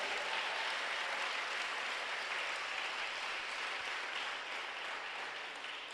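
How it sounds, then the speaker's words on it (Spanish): A church congregation applauds during a sermon, a faint, steady wash of many hands clapping that sounds distant and muffled and tapers slightly toward the end. "Si puede darle un aplauso, hermano, fuerte a la presencia del Señor."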